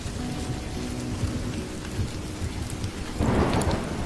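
Heavy rain pours down in a steady, dense roar that briefly swells louder near the end, with no voices over it.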